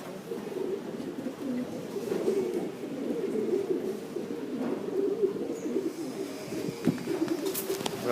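Pigeons coo steadily at close range in a building opening, a continuous low warbling with distant faint background sounds and no talk.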